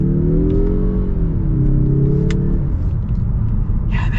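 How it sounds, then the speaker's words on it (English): A 2021 Mazda 3 Turbo hatchback accelerates hard, its engine note droning loudly and climbing through the revs with a steady rumble and no talking over it. "let's get another acceleration here"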